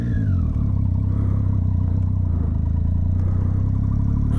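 A motorcycle engine runs steady and loud on a night ride, a close, even mechanical drone with a throbbing low rumble and constant whir throughout.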